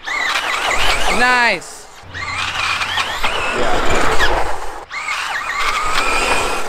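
A Traxxas Bandit VXL or Arrma Vorteks BLX RC car revs hard and pulls a wheelie, its electric motor whining up and down in sharp pitch sweeps, loud and close, with a short spoken remark.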